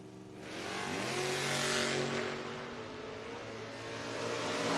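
A 2010 Camaro and a 1987 Ranger launch in a footbrake drag race, engines roaring loud and sustained with rising revs that swell and hold, heard from trackside without talk.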